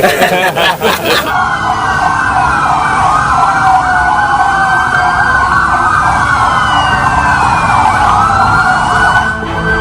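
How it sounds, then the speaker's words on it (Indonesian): Wailing sirens from a convoy of Densus counter-terror tactical vehicles with rotating lights switched on, several overlapping tones sweeping up and down, loud and continuous, starting abruptly after a brief rumble of traffic. "Lampu rotator dan suara sirine kendaraan taktis milik Densus dinyalakan seperti sedang menggelar suatu operasi"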